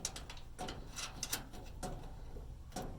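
Bolt and nut being tightened on the top bracket of a steel safety partition in a Nissan NV low roof van, with quick ratcheting clicks and metallic taps in short bursts close by.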